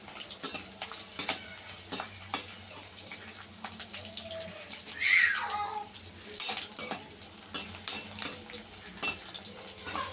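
Crushed raw garlic cloves frying in hot oil in a pan, a soft steady sizzle with scattered crackles and stirring clatter, near and moderately quiet, with no talking.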